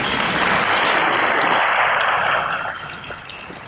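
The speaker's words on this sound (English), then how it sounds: "Give him a round of applause." A room of attendees at a NAIOP real estate gathering gives a dense, full round of applause that holds strong, then tapers off toward the end.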